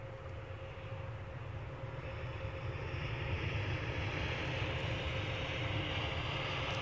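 An Air France Airbus A220 airliner at Edinburgh airport sends out a broad, steady jet roar from a distance, swelling gradually louder through the clip.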